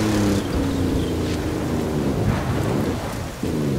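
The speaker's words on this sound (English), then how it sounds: "The storms can be bad, but the ancient peoples of this region knew the value of the rain." Thunderstorm with heavy rain during a Tulum expedition in Forza Horizon 5, loud rolling thunder rumbling over a constant rain wash, with a car engine faintly underneath, no speech.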